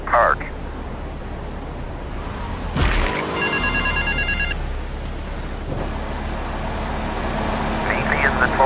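Payphone ringing in Grand Theft Auto III, a short run of electronic rings at moderate level over city traffic and engine hum, with a voice heard near the start and near the end.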